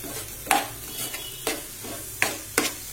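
A spoon stirs salted spinach and fenugreek greens frying in a pan, giving four or five distinct scraping strokes spaced roughly a second apart over a soft, steady sizzle, close by with no talking.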